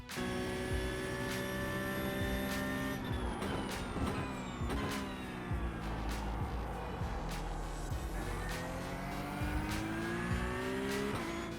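Sim racing car in a driving game, engine note rising and falling steadily as it brakes hard and corners, with repeated downshift blips and tire noise, loud and continuous with no talking.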